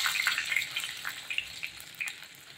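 Small pieces of ginger and three halved dried red chilies sauté in a pan for vendakkai moor kuzhambu, giving off a light, steady sizzle with scattered crackles throughout.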